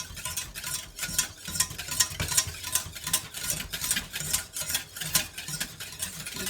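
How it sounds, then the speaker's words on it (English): Custard being stirred in a saucepan with steady, rhythmic scraping strokes of a spoon or whisk, close and fairly quiet, with no one talking. "I stirred so much."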